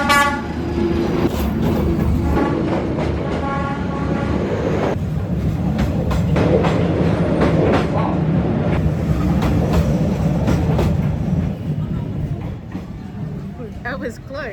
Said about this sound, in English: Currently standing here on the train street waiting for the train to come down Train Street.